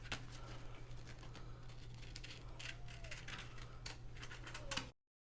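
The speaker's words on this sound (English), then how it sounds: "you're going to get your scissors and cut out these circles." Scissors snip through cardboard to cut out circles: quiet, close crunching cuts that come one after another in an uneven rhythm.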